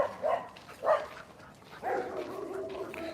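A dog gives three separate barks at a moderate distance outdoors, short and evenly spaced, with the last one drawn out into a longer yelp over a faint background hum.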